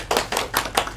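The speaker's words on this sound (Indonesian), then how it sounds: "Tepuk tangan buat teman kalian." Short burst of applause in a classroom during microteaching presentations, about five quick, sharp hand claps in a row at close range, with no talking.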